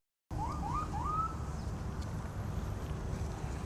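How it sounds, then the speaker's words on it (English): A police siren wails in the distance with a few brief rising sweeps near the start, then fades under steady outdoor background noise during a car wash. "I don't know if you guys heard the police siren."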